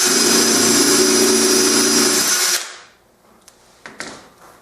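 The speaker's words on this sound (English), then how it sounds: "I'm going to go ahead and drive these 2 screws in first before I drill the rest of the holes" Power drill whirring steadily as it drives screws into a wooden cabinet case, a loud continuous run of about two and a half seconds that stops abruptly, followed by a few faint clicks and knocks.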